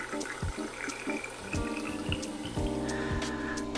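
Water runs continuously as tanks are filled and dumped to rinse 120 film during E-6 color reversal processing. The flow is steady and splashy, with pitch shifts as the level changes, and there is no talk.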